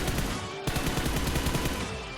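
Rapid automatic gunfire from the BGMI battle royale game on the Livik map, a dense rattling burst of closely spaced shots lasting about two seconds, loud and without any talk.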